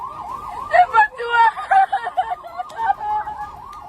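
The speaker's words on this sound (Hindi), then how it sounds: "लगातार सायरन बजाकर लोगों को हमलों से सावधान रहने की चेतावनी दी गई" Wailing warning sirens sound during drone attacks on a US base in Erbil, several overlapping rising and falling tones that are loud and fairly near, with no speech.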